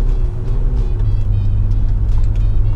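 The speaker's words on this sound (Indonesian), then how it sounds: "Kita tes ya handling mobil ini seperti apa." A modified retro Mercedes-Benz 300E drives on a handling test track, its steady engine drone and road rumble continuous and close throughout.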